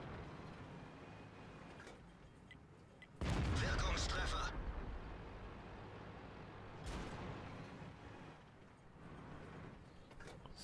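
Tank cannon fire in the World of Tanks game, with a Centurion Mk. I in battle: a loud booming shot rolls out at about three seconds and a softer blast follows near seven seconds, both over a low engine rumble.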